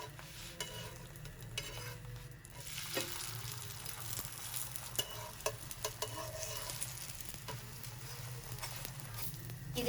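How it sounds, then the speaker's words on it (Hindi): A paratha sizzles steadily in ghee on a pan over medium heat, a continuous close frying crackle with faint stirring and scraping, no voices. "अब इसकी साइड पे हम घी लगाएंगे और इसको थोड़ी दरमियानी आंच के ऊपर पकाएंगे"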